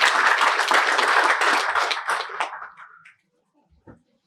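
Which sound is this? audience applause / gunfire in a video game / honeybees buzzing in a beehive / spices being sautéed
audience applause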